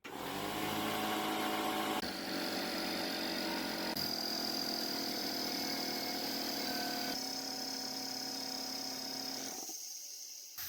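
An old Porter Cable air compressor, just repaired with a butt connector, runs with a steady, loud motor drone for about nine seconds before cutting off abruptly into silence.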